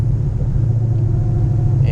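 A 2018 Mustang GT fitted with a Whipple supercharger cruises on local roads in Mexico, its engine giving a loud, steady low rumble from inside the cabin, with no sharp revving.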